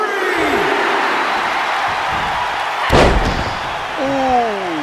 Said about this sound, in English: big leg drop.